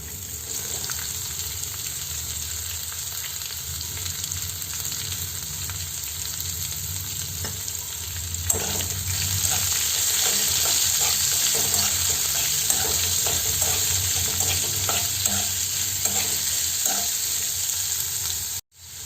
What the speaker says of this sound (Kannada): ಸ್ವಲ್ಪ ಉದ್ದವಾಗಿ ಹೆಚ್ಚಿಟ್ಟುಕೊಂಡಿರುವಂತಹ ಒಂದು ಇಡೀ ಗಾತ್ರದ ಈರುಳ್ಳಿಯನ್ನು ಹಾಕ್ಕೊಳ್ಬೇಕು.